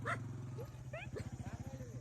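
A dog gives short rhythmic barks and growly yips close by during a wedding-season visit, interleaved with people talking over it.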